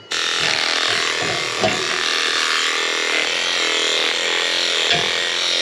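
Woodworking joiner power tool running steadily, a loud whining motor that starts abruptly and holds, with a few light knocks underneath.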